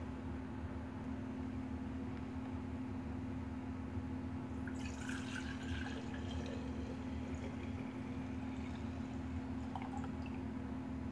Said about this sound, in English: What would happen if we took that jar and poured it into this big jar?